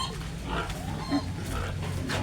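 A pregnant sow that is off her feed and vomiting gives low grunts, close by, over steady farm background noise.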